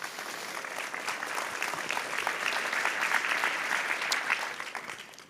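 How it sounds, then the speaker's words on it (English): An audience claps steadily in sustained applause, a dense, even patter of many hands that holds for several seconds. "Please give each other a round of applause."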